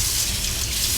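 Organic vegetables being washed under running water, a brief continuous gushing splash, close and fairly loud with no voices.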